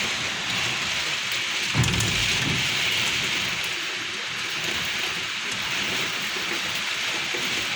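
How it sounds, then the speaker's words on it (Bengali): A heavy downpour hisses without pause outside a house window, and a deep roll of thunder swells briefly near the start before the steady roar of rain carries on alone. "প্রচুর বৃষ্টি হইতেছে।"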